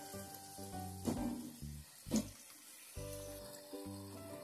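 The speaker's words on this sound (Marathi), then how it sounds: "आता ही सांबार वडी आपण ब्राऊन होतपर्यंत तळून घेऊ" Sambar vadi fries in hot oil with a quiet, continuous sizzle under background music with a steady rhythm of chords.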